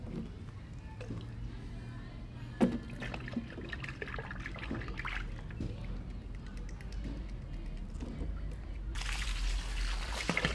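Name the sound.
water pouring while washing a Miata without a nozzle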